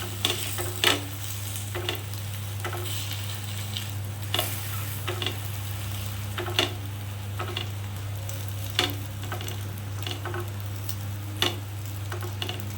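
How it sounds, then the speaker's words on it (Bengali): An egg paratha fries in a pan with a steady sizzle, broken by occasional sharp clicks and scrapes as it is turned, close and clear with no talking. "উল্টে পাল্টে দু তিন মিনিট ধরে খালি ভাজতে হবে যাতে ভেতরের ডিমটাও পুরোপুরি ভাজা হয়ে যায়"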